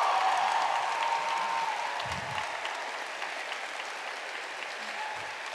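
Audience applause at a political rally in Portland, Maine, a sustained wash of clapping and crowd noise from a large room that stays steady throughout without easing.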